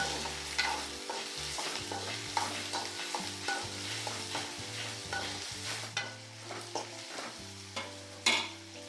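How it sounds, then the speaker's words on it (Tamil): Dried red chillies and onions sautéed in a pan: continuous sizzling with repeated scraping and stirring strokes of a spatula, close and fairly loud, with a few sharper knocks against the pan. "இது எல்லாத்தையும் நல்லா வதக்கிடலாம்"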